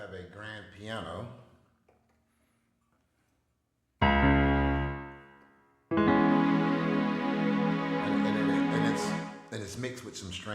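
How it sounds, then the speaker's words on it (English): A grand piano sound layered with strings plays a sustained chord, then a second longer chord, between stretches of someone talking before and after. "here I have a grand piano"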